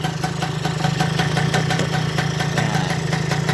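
A motorcycle with miswired electrical connections idles close by in a steady, low, pulsing throb, holding a constant rhythm throughout with no talking.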